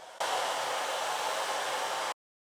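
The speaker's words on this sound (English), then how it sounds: "See if the blow dryer will do a little bit." A blow dryer runs on wig hair, a loud, even whooshing roar that starts abruptly, holds steady for about two seconds, then cuts off to silence.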